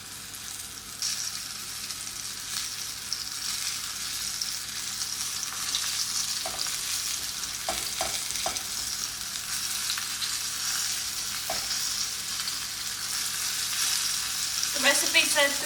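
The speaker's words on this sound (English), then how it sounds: "There's a nice sizzle." Hot oil sizzles steadily while frying chicken in a pan, a constant bright hiss with a few light clicks of stirring and a louder crackle near the end; no voices.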